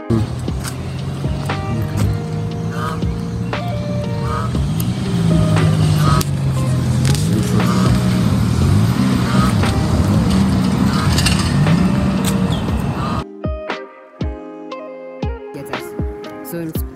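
Car engine drones steadily and loud as it drives along a road on the Covenant University campus, then cuts out near the end, leaving a few clicks and faint tones.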